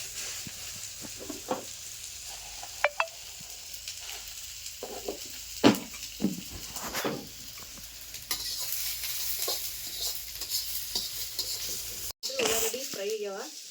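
Bay leaves and spices frying in a pan for a paneer masala, a soft sizzle with stirring scrapes and clinks throughout, brief moments of speech over it, ending in a sudden cut.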